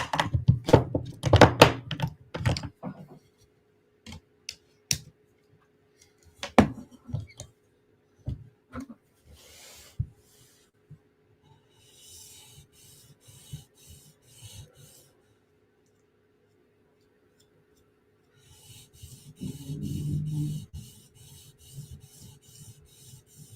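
A Chris Reeve Umnumzaan tanto knife being worked on an 800 grit sharpening stone, with bursts of close scraping strokes and knocks separated by quiet gaps, plus a longer grinding pass near the end.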